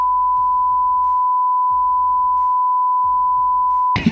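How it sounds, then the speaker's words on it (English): A steady, loud censor beep tone holds for about four seconds, with faint talking underneath, then cuts off abruptly. "Beep. Censored."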